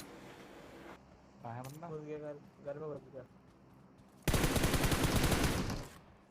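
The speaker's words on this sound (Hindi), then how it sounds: "इस साइड से हमें फायर का साउंड आ रहा होता है" Gunfire in the mobile game PUBG Mobile: a loud rapid automatic burst of shots comes after someone speaks, with a few faint clicks at the start.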